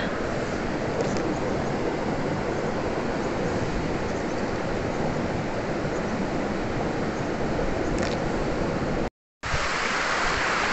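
River water rushing steadily beside a riverbank in Abra, a loud, continuous broadband wash that fills the scene without pause, cut briefly by a short gap of silence near the end.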